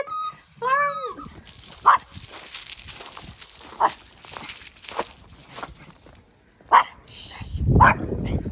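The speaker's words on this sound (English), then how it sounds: "The noisiest dog on the planet." A small noisy dog gives several sharp, loud barks spaced a second or two apart, close by on an outing, with a person speaking between them.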